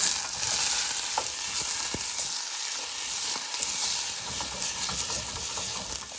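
Drained, rinsed canned beans are stirred in a hot pan, a loud close hiss of frying with repeated scraping strokes and soft clicks of the utensil, no voices.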